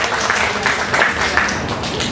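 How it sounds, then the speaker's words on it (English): An audience at a Chevron safety stand down claps for an employee in a short, dense burst of applause from a crowd close by. "Give him a round of applause."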